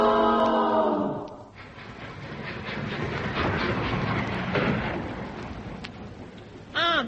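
A steam train pulls into a station with a whistle blast up front, then a loud, rumbling rush of wheels and carriages that rolls on steadily and ends in another sharp whistle.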